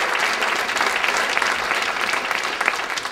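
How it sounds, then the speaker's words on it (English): An audience at a San Francisco arts event claps for the Board of Supervisors in dense, sustained applause, loud and even from start to finish. "please give them a round of applause"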